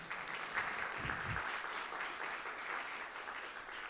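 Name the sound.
audience applause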